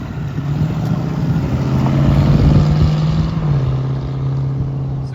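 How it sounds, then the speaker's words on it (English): A friend's car engine idles with a steady low purr nearby, then swells slightly as the car pulls away and drives off into the distance outdoors. "It just sits there and purrs. What a car!"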